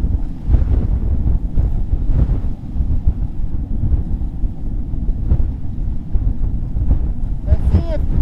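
Strong wind buffets the microphone in continuous low rumbling gusts, with faint rustling underneath.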